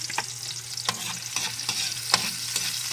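Sliced meat sizzling and being stirred in a pan with sautéed garlic for bam-i, a steady close frying hiss broken by regular scraping strokes of a spatula, with no voices.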